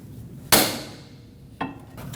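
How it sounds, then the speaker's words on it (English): A hammer strikes a long pry bar held against a metal boot clamp on a Toyota Corolla inner tie rod, giving two sharp metallic taps about a second apart, the first louder, over a steady workshop hum. "Put it right up against it, tap it with a hammer, and it should pop off."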